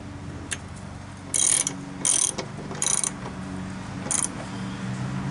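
A ratchet wrench tightens the blade bolts on a Craftsman L3000 riding lawnmower, giving four short bursts of rapid metallic clicking, close and distinct over a low steady hum.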